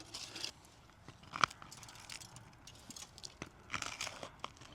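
Burnt toast is being bitten and chewed outdoors, giving faint, scattered crunches and soft crackles close to the mouth, with one sharper crunch standing out among quieter chewing.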